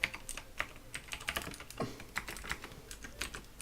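Code being typed on a computer keyboard, a quick run of close, crisp key clicks with uneven rhythm and no talk over it.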